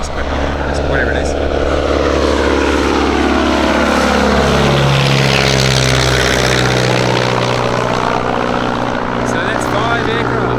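Vintage propeller aircraft at a fly-in, a loud continuous engine drone with a rising and falling tone as the plane passes close by, and a voice talks over it.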